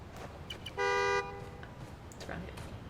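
A single loud, steady car horn blast from Spider-Man: Miles Morales, sounding close and lasting under half a second amid low city background noise.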